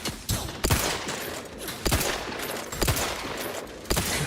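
Bursts of rapid gunfire in the video game The Outer Worlds 2 repeat roughly every second, loud and close, rattling over a dense background of combat noise.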